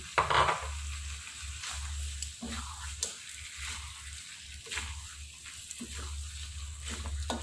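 Squid fries in a pan with a soft, steady sizzle while being stirred, the stirring heard as repeated scraping strokes close by, no talking.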